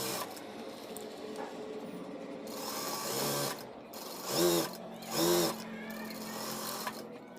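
A sewing machine stitches a men's kurta in short bursts of whirring and rattling, with two louder runs near the end over a quiet room, while a person talks in between.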